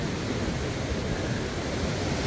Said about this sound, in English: some fairly decent waves coming in.